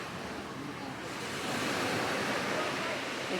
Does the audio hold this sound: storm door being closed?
no